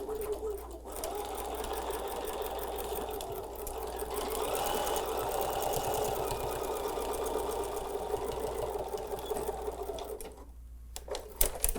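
A sewing machine stitches fabric in a long steady run of rapid mechanical ticking at close range, fairly soft, stopping briefly near the end before a few final clicks.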